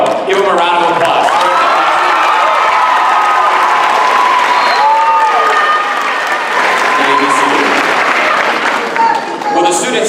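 Loud, sustained applause from a crowd honoring high honors graduates at a class of 2017 graduation ceremony, with cheering and whoops over continuous clapping for about ten seconds, and voices mixed in.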